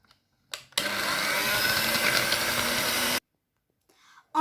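An electric mixer whirs through sablé cookie dough with egg and a pinch of salt, giving one close, steady motor drone lasting about two and a half seconds between quiet gaps.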